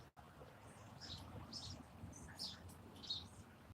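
Birds chirp in short, high bursts every half second or so, each faint and set against a steady low outdoor rumble like wind or running water in a calm, quiet setting.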